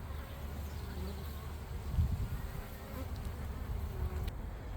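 A dense, steady hum of honeybees buzzing around the hive entrance in late September, with individual bees passing close now and then over the continuous drone.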